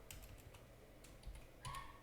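Keys tapped on a computer keyboard while a title is typed out, a quiet run of soft irregular clicks with a couple of slightly louder strokes near the end.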